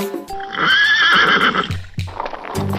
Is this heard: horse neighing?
yes